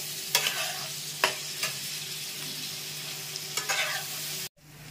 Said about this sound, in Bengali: এবারে ভালো করে নাড়া দিয়ে নেব।